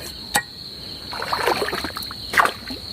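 Water splashes and sloshes in short bursts as a fish thrashes inside a fish trap set among rocks, with a sharp knock at the start and insects buzzing steadily in the background.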